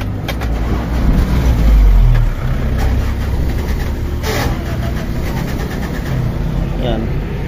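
A Toyota 5K engine that is hard to start cranks, with a loud, rough burst of engine noise, then settles into an uneven, running rumble. Voices are heard in the background.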